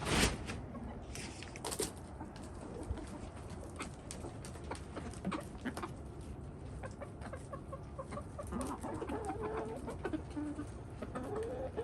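A flock of moulting chickens clucks and coos in short, scattered calls over a constant low background hum, with brief clicks and scuffs throughout.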